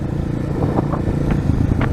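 A 230 dirt bike motorcycle rides a rain-soaked dirt road, its engine droning steadily and close with small revving swells and wind buffeting throughout, no voices.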